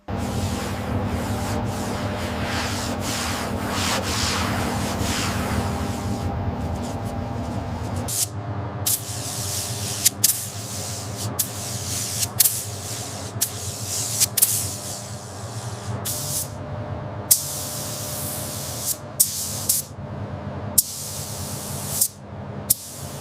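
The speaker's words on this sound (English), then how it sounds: "The gun is held further back. The paint is dusted on." A spray gun dusts metallic British racing green paint onto a 1971 Chevrolet Chevelle SS during restoration, giving a continuous airy hiss that shifts partway through, with sharp little clicks over the steady spray.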